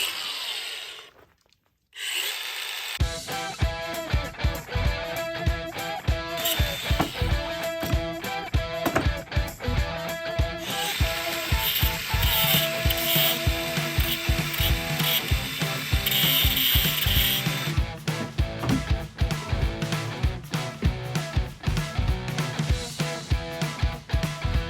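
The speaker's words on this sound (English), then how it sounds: "Time for some grinding in the snow." Grinding work outdoors in the snow at an off-grid self-built house, a loud, dense mechanical rattling and whirring that starts after a brief pause and runs continuously and close up for over twenty seconds, with no talk.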